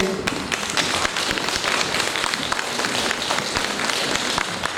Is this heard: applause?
yes